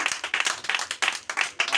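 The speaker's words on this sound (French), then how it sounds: "Donnez une main d'acclamation à Dieu." Church congregation clapping hands in rhythmic bursts, a dense crowd of claps repeating roughly every quarter second, close and lively, with no voices standing out.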